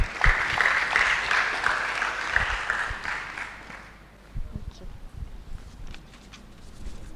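A crowd at a university International Day of Mathematics debate applauds as a speaker walks up, clapping loud at first then fading out after about four seconds, followed by scattered thumps and rustling.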